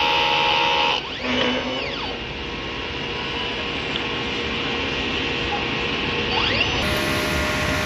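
A DTF printer runs a head-cleaning cycle, giving a steady loud mechanical whir and hiss with a couple of sweeping motor tones as the carriage moves, and no speech over it.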